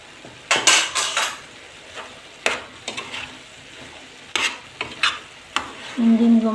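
A utensil scrapes and clatters in a pan as vegetables with cumin and ginger are stirred for potato shakshuka. It comes in separate sharp bursts with quiet gaps between them, and a soft sizzle rises at the end.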